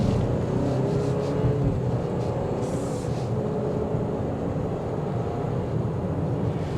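A 2023 Buick Envision Avenir accelerating on a test drive, heard from inside the cabin as a steady, loud engine and road rumble that holds evenly throughout, with no talking.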